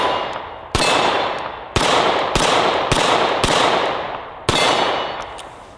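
Sharp pistol shots from a Taurus handgun at an outdoor range, six loud reports spaced irregularly about a second apart, each trailing into a long ringing decay.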